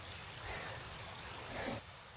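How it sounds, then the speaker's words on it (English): Waterfalls in the Lake District, swollen with rain along a hiking path in the Langdale Pikes, send out a steady, broad rushing roar from close by, continuous and without talk. "Gorgeous waterfalls."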